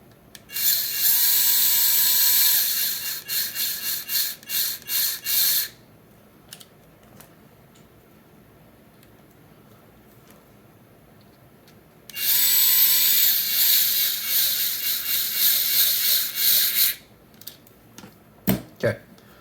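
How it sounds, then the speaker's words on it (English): A driver turns servo mount screws back into a TRX-4M RC truck in two long bursts of rapid ratcheting clicks, close and crisp, with quiet gaps and a few scattered clicks between them. "I'm going to reinstall these servo mount screws"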